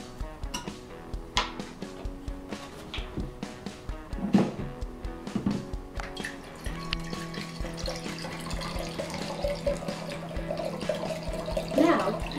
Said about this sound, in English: fill your jar 3/4 of the way with vinegar